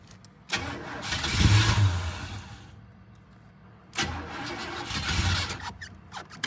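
A car engine cranks over in two separate bursts, a few seconds apart, while it struggles to catch after a new fuel line was added. Each burst is a churning starter whir with a faint squeal, and it never settles into an idle.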